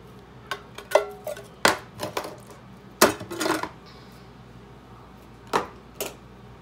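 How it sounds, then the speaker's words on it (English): Diced tomatoes tipped into a pot of African sweet potato stew give a run of sharp clinks and soft wet thuds, a can or spoon knocking the pot rim in irregular bursts, close and fairly loud with quiet gaps. "we're gonna pop in the diced tomatoes."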